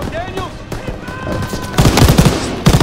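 Rapid bursts of gunfire in the World War II video game Call of Duty WW2, loud and close, arriving in quick clusters toward the end amid game ambience, with a voice present.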